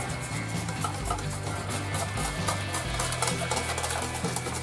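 Steady stirring and scraping in a bowl as cream, milk, sweetened condensed milk, hibiscus powder and vanilla seed are mixed for vanilla hibiscus ice cream, with faint utensil clinks and no talking.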